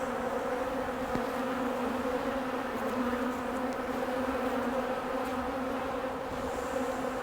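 Honeybees hum steadily at an open hive during a colony inspection of a recently split colony, a continuous mid-level drone of many wings with no talk over it.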